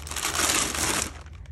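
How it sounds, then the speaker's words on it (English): A plastic bag over a brine container being twisted shut, a loud close crinkling rustle that fades out after about a second. "plastic bag here, twist it off, close it up"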